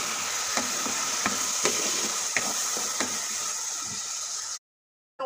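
Tofu and pork frying in a pan with oyster sauce sizzle steadily and fairly loudly, with faint scattered clicks of stirring, before the sound cuts off abruptly near the end.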